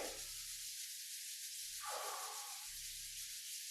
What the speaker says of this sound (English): And then we can rub our hands together.